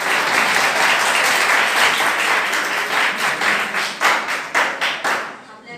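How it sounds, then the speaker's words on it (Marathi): An audience at a career guidance lecture applauds for someone speaker, loud dense clapping that thins into a few slower, rhythmic claps before stopping. "मॅडमसाठी जोरदार टाळ्या वाजा."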